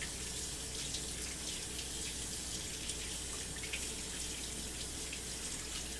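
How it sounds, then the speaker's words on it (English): Kitchen tap water runs steadily into a sink while hands are rinsed during baking, a continuous close splashing hiss with no talk. "I'm going to rinse my hands off."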